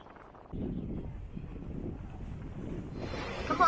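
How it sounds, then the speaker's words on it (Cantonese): Strong wind on a pedestrian bridge across the bay at Tseung Kwan O rumbles and buffets the microphone in low gusts, rising toward the end, with no talk. "好大風啊"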